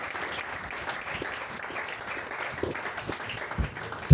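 A church congregation applauds in praise, a dense, steady wash of many hands clapping that carries on throughout and ends in a sudden louder thump.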